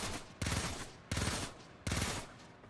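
Rakta Ballistica regular shots fired in the Warframe video game: three loud, sharp blasts spaced about three-quarters of a second apart, each fading quickly before the next.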